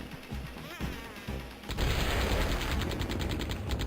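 Rapid video game gunfire starts partway through, a steady mechanical stream of shots following quieter clicks and thuds, moderately loud and continuing to the end.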